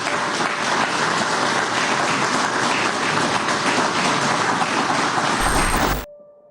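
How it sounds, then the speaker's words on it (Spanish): A crowd gives sustained applause for PDVSA oil workers in Venezuela. The clapping is dense and even, close and loud, and it cuts off abruptly near the end. "Pido un aplauso para los trabajadores y trabajadoras de PDVSA"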